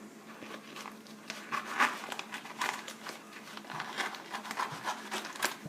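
Scissors snip a plastic vacuum-seal bag off a roll while home-brewing a chocolate coffee stout, giving close, crinkly rustles and sharp little cuts scattered through a few seconds.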